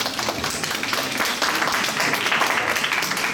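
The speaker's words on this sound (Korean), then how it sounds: "이하석 소장님, 전사님 이렇게 박수로 맞이했으면 좋겠습니다" A church audience in Korea claps to welcome a guest speaker, dense steady applause that fills the room from start to finish at moderate loudness, with no voices.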